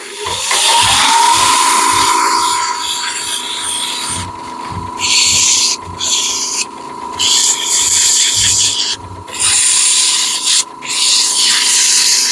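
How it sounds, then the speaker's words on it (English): Sandpaper rubs rhythmically against the end of a wooden spaghetti server on a lathe, a loud, close scratching hiss repeating in strokes over a constant motor hum. "Take some sandpaper and we'll sand the end of that off, kind of clean that up"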